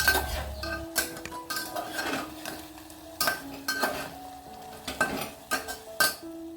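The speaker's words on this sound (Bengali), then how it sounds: "খুন্তি দিলে আর অন্য জিনিস নাড়ানো যায় না তবুও এই কষ্ট করে নাড়িয়ে নিচ্ছি" Large spatula stirring chicken in a small cooker, with repeated metallic scrapes and clinks against the pot in an irregular rhythm over a soft sizzle, close by and without talk.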